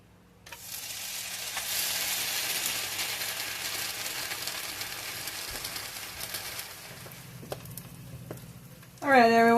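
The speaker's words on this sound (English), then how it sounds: "so I'm just frying up the egg now for his sandwich" An egg sizzles steadily in a hot pan, a bright continuous crackle with a few soft clicks, then a brief louder clatter at the end.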